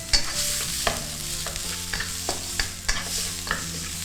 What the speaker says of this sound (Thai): ผัดให้แครอทสุก